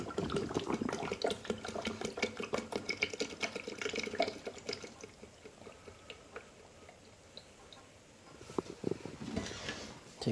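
Water runs into the clean-water side of an O-Cedar EasyWring RinseClean spin mop bucket, a faint, steady splashing stream for about five seconds, then a quieter pause and a brief return of the flow.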